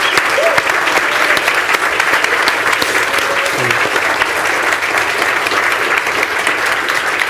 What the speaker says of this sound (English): So we just thank them in a traditional fashion, a round of applause, because they put a lot of work in today.